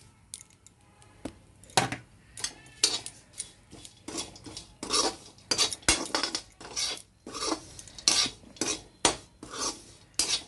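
Black sesame seeds, cashews and almonds dry-roasting in a pan, with a spatula scraping and rasping against the metal in quick irregular strokes, near and fairly loud.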